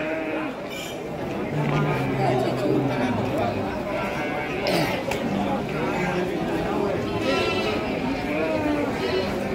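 Sheep bleat repeatedly at a busy livestock market in Pasar Andir, where sheep are sold for sacrifice, with crowd chatter and voices running under the calls throughout.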